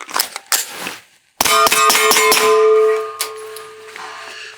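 A suppressed Springfield Echelon 9mm pistol firing Nosler ammunition, a rapid string of about five sharp, loud reports with ringing metallic clangs and decay, following some faint handling noises.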